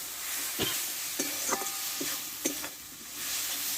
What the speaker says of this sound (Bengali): সর্ষে বাটাটা দিয়ে আমি বেশিক্ষণ নাড়াচাড়া করবো না কেননা সর্ষেটা পুড়ে যাবে